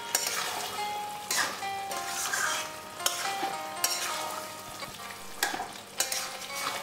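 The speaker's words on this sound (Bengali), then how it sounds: "ভালো করে এখন আমি নেড়ে চেড়ে দিচ্ছি।" Mutton with cashew paste is stirred in a frying pan, a steady sizzle broken by repeated scraping strokes of a spoon every second or so, close and with no talking.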